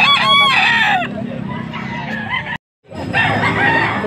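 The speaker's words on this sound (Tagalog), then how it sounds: "Yo, may mga manok din," Chickens crowing and clucking at a busy Bocaue, Pampanga livestock market, with loud harmonic crows near the start over a dense crowd din, a brief dropout, then more crowing and clucking.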